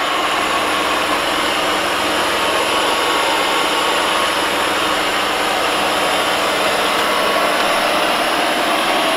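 An Ecovacs Deebot X1 Turbo robot vacuum runs close by, cleaning a heavily soiled floor with a loud, constant whirring roar that never lets up.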